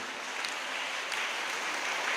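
An audience claps enthusiastically during a speech at a Tamil debate event, a continuous crowd of applause that builds slightly and stays full.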